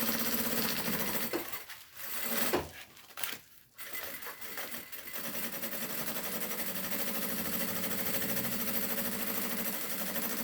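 A sewing machine stitches a seam in a fast, steady mechanical whir. It pauses briefly twice before running on continuously, close and clear with no talking.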